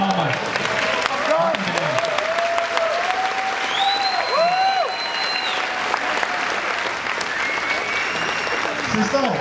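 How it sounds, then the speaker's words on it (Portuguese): Applause from the audience at a national podcast gathering in Brazil, a continuous wash of clapping with voices and some whistling-like tones riding on top. "Aí, salva de palmas."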